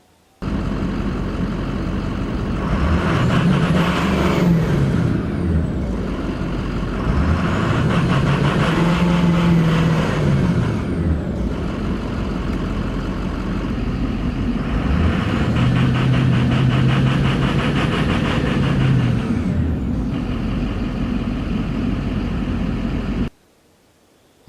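A 2006 Ford F350 with the 6.0 Powerstroke diesel engine, faulty under load, revs up three times in loud, near surges, each rising then falling back, with a steady rough engine drone between them and no talk.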